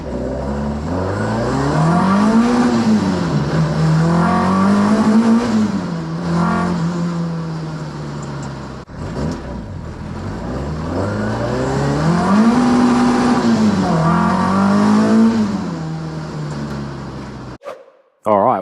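A Ford Escort Mk1 fitted with an ST170 engine drives and revs hard on the road, the engine note climbing and falling through two long loud acceleration pulls before cutting off abruptly.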